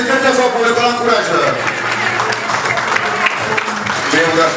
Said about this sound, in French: On applaudit très fort pour le grand courage.